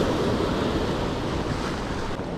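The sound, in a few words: sea waves breaking on the shore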